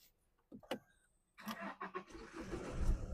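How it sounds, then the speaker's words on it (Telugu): A 2018 Hyundai Creta automatic with a sunroof: a couple of faint clicks, then a short crank as the engine catches on a single start and settles into a smooth idle nearby. "సింగిల్ సెల్ఫ్లో బండి స్టార్ట్ అవుతుంది."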